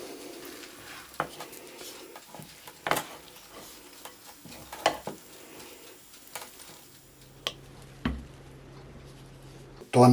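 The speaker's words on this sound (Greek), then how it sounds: "Το ανακατεύουμε απαλά για να μην λασπώσει." A soft cheese filling for Georgian khachapuri is gently stirred in a bowl, giving quiet scraping and occasional light clinks of the utensil against the side over a low background hum.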